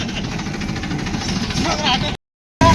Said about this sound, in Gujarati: એમાં ટ્રેક્ટર ચલાવીએ છીએ